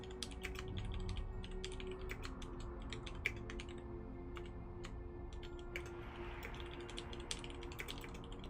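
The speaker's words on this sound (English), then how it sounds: "Just typing in Discord." Computer keyboard typing in Discord: a steady stream of quick, crisp key clicks with irregular rhythm, close to the microphone, over a constant low background hum, with no speech.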